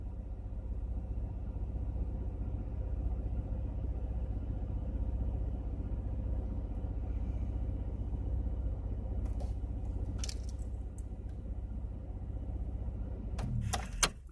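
A 2000 Chevrolet Impala idles with a steady low engine rumble for most of the stretch, then a few metallic clicks and key jingles near the end as it shuts off, no talking.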